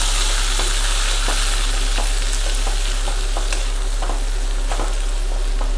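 Tomato, onion, ginger and green chilli frying together for a Bangude Pulimunchi fish curry, a loud, dense sizzle with regular stirring scrapes and taps close by, with no talk.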